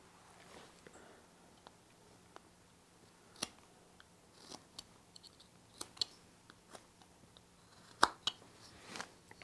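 Hand knife carving a wooden sailor figure, shaving down the beard: quiet, scattered sharp clicks and scrapes of the blade on wood at an irregular pace, close by, with no talking.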